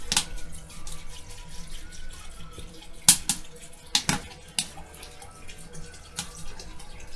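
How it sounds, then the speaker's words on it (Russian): Cold water runs and splashes into a cauldron holding meat for borscht broth, cooked over a campfire outdoors, a faint steady pour broken by a few louder sloshes and clunks. "Заливаем холодной водой."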